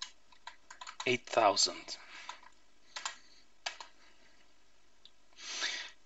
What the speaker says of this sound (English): go to your browser and type in localhost